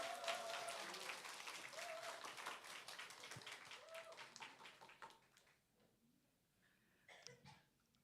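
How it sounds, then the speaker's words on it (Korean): Welcoming applause from a congregation during a Sunday afternoon church service in Korea, a steady, dense clapping that holds for several seconds and then thins out and fades, with a brief faint flurry near the end. "힘내시라고 큰 환영의 박수 해드리겠습니다"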